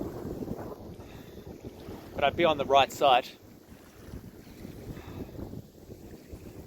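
Strong wind buffets the microphone aboard a small boat on open water, a steady low roar with gusts throughout, while a voice speaks briefly under it along with a few sharp bursts in the middle.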